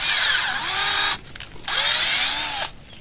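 A cordless battery drill bores into the trunk of a red sandalwood tree in two sustained whining runs, each with a falling pitch as the bit bogs down, then a short pause between them; close, loud and without speech.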